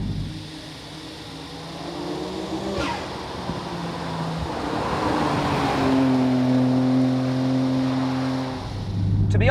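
An R32 Nissan Skyline GT-R fitted with an R34 Getrag six-speed gearbox is driven fast, its engine droning and climbing in pitch through the gears with a quick shift break, heard from inside the car over road noise.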